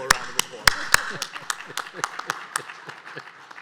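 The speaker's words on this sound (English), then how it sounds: "So certainly give Bill a round of applause." A small audience at a reverse pitch event applauds Bill Link with scattered, separate claps that start louder and thin out over a few seconds.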